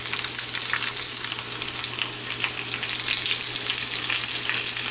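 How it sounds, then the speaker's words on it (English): Chicken and potato taquitos fry seam side down in a pan of hot oil, making a loud, dense, continuous sizzle that stays even throughout, with no talking. "we're gonna start by putting our taquitos seam side down"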